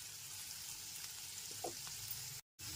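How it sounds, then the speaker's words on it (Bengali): Chopped onion frying gently in oil on a low-to-medium gas flame, a quiet continuous sizzle with a couple of brief stirring scrapes and a short dropout near the end. "পেঁয়াজ কুচিটা এখানে তেলের ভিতর হালকা করে ভেজে নেব"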